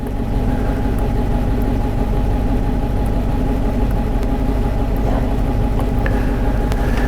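A 2012 Dodge Charger V8 with a misfire runs with a loud, close, steady engine drone and low rumble, holding a constant level without any clear rise in revs.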